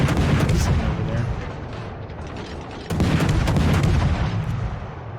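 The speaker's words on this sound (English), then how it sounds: "I put out a stream of shells to see if maybe I'll hit something" Naval gun shells fired in a stream in World of Warships, a dense, sustained rumble of rapid booming salvos with a renewed loud burst midway, no talk over it.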